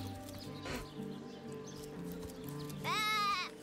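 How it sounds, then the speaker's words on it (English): A sheep in the video game Divinity Original Sin gives one loud, wavering bleat near the end, over a steady bed of low game ambience and music. "Oh yeah, sheep. We can't talk to sheep."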